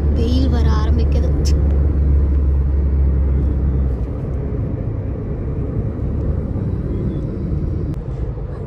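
Heavy road traffic rumbles past in a dense, steady roar near Yelagiri, loud and unbroken, with a voice briefly audible at the start.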